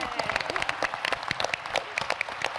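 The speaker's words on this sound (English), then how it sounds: "another round of applause for my chorus" An audience claps for a chorus after a performance, a steady patter of many hands at moderate volume, with a little talk mixed in.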